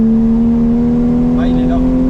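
BMW E30 320i engine heard from inside the car as a steady, droning hum that holds an even pitch throughout, loud and close, with a faint higher whine rising briefly near the end.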